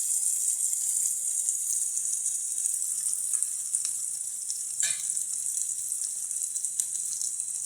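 Food sautéing in a pan, a bright continuous hiss of frying with occasional clicks and one louder scrape of stirring partway through, close and without voices.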